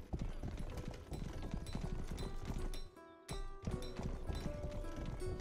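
Horse hooves clip-clop steadily in the Wild West video game Rustler, a quick rhythmic patter of hoofbeats over background game music, with a brief pause midway before the trotting resumes.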